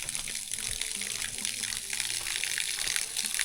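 Tap water gushes steadily and closely in a rural Lao village with no electricity, a continuous splashing rush with no speech.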